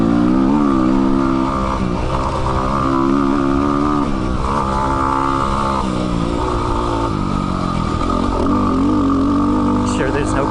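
A Yamaha WR250R dual sport motorcycle runs continuously during a ride, its engine droning and shifting pitch as it accelerates and eases off, loud and close with wind noise throughout.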